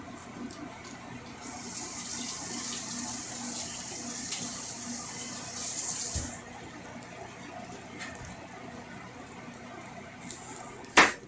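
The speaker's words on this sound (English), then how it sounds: "just adding a little bit of water to it" Water pours into a pot of Korean miso soup with squash, a steady close trickle and splash lasting several seconds, ending with a sharp clack near the end.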